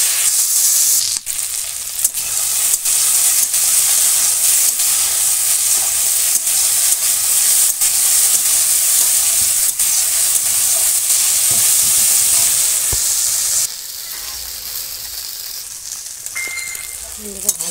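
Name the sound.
frying vegetable with chilli, salt and turmeric in oil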